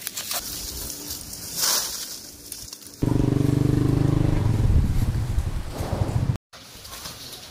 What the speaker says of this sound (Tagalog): Ito yung juice extraction machine natin. Pag pinasok natin yung tubo,